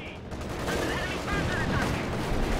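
Battle sounds from the World War II strategy game Company of Heroes 2: a dense, continuous barrage of gunfire and artillery rumbles throughout, loud and layered with distant booms, with faint voices mixed into the din.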